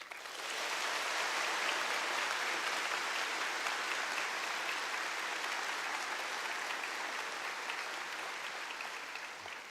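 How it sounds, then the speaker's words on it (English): A crowd at a bar passers' oath-taking ceremony claps steadily for several seconds, a broad wash of applause that holds and then slightly tapers at the end. "applause for all of them."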